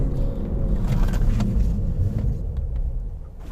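A 2012 Infiniti G37 S coupe with upgraded larger brakes slows to a quick stop, heard as a steady low road and engine rumble from inside the car that gradually eases off toward the end.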